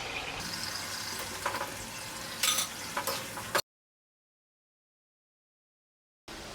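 Boiled potatoes drop into hot oil with red chili and fry with a soft sizzle and a few stirring clatters, cut off by a stretch of total silence before the frying sound briefly returns.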